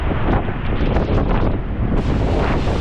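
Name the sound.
sea waves crashing against rocks, strong wind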